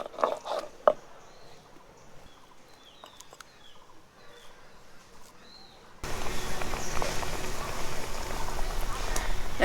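Water in a cooking pot on a lit stove reaching a boil: first a quiet room with faint bird chirps and small knocks, then a steady, loud bubbling hiss that fills the rest of the clip.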